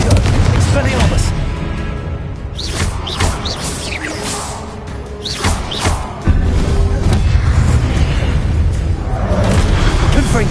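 Spells cast in Hogwarts Legacy, including Incendio and Confringo, burst repeatedly in loud, booming explosions with crackling impacts, over a dense, continuous rumble of combat with voices mixed in.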